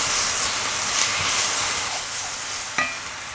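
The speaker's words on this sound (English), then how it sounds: "Give it a good stir in." Ginger garlic paste and onions sizzling in a pan for a chickpea and butternut squash curry, with a steady, close frying hiss throughout and a sharp spoon scrape against the pan near the end.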